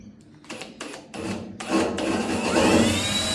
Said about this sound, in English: now I'm going to drill in that centre pop hole.